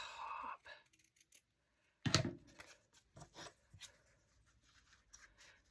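Scissors cut a paper craft piece near its top, giving a few quiet, close snips and crinkles spaced between silent gaps, with one louder crisp cut in the middle.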